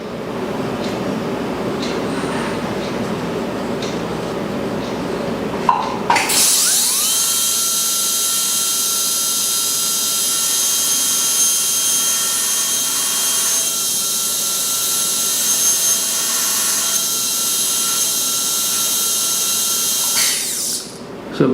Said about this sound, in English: So we are into the enamel with this round burr.